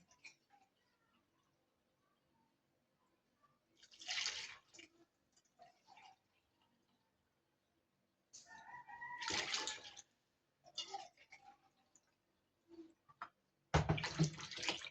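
Water poured in bursts into a batter mix for crispy kamaykamay, three separate splashy pours separated by quiet gaps, close and fairly soft with no talk.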